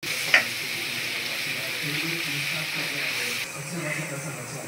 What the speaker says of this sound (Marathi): 2 ते 3 चमचे तेल टाकले, टेबलस्पून तेल.